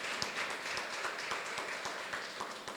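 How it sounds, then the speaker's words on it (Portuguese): Audience applause at a church convention in Minas Gerais welcomes a guest to the stage, with steady, dense clapping from a large crowd that stays loud throughout. "Vamos recebê-la com a força salva de palmas"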